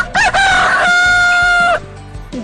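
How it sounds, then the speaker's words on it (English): A rooster crows loudly and close by, one long strained cock-a-doodle-doo lasting nearly two seconds. "Goat, cock,"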